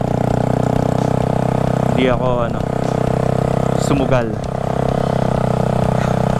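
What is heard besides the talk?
motorcycle engine in flood water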